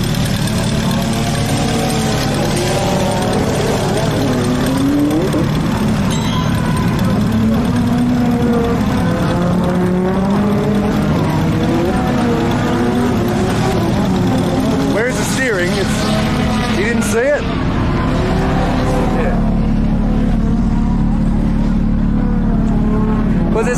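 A drift car's engine idles loudly at a drift track day, its carburetor rattling through a constant rough drone with shifting pitch, while people talk over it throughout.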